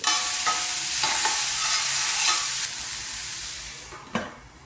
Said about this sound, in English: We stir it, we cover it up until it becomes soft